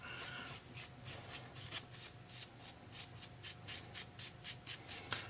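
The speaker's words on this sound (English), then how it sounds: "Just gonna brush off some of the dust from sanding" Steady rhythmic brushing strokes sweep sanding dust off a decoupage surface, quick and evenly spaced, close and fairly soft with no voices.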